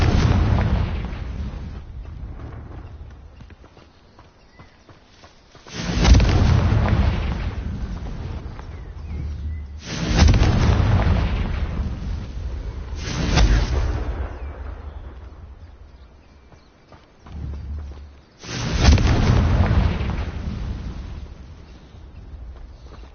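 Magical Confringo fire-blast spell explosions in the Hogwarts Legacy game, four heavy booming bursts at irregular intervals, each swelling loud and decaying slowly, with a shorter thump between the last two.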